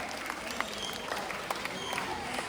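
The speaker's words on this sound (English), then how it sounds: "So a round of applause for our Philippine hawk eagle named Hunter!" Audience applause at a bird show at Cebu Safari after a Philippine hawk eagle's demonstration, a steady dense clatter of many clapping hands with scattered sharper claps, fairly distant.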